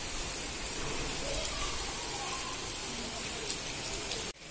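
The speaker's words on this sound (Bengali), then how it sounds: "এখানেও বৃষ্টি হচ্ছে।" Light drizzle falls just beyond a home balcony, a steady soft hiss of rain throughout, even and unbroken until it cuts off abruptly near the end.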